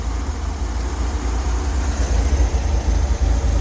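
A 1964 Corvair engine runs at a steady idle, a continuous low rumble that holds even and fairly loud for the whole stretch, with no voices over it.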